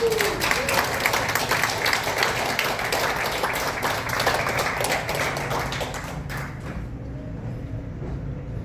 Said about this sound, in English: please give a big round of applause to Tony Barnes